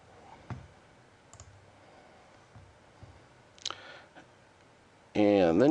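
Faint, sparse computer mouse clicks sound while a file is saved, a few soft ticks spread over a quiet stretch before a sudden loud tonal burst closes the clip.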